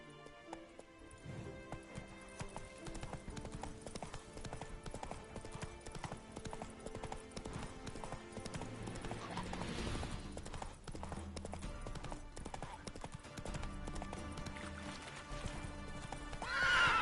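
A horse gallops steadily with rhythmic hoofbeats and a whinny in The Witcher 3, set under a continuous orchestral music bed.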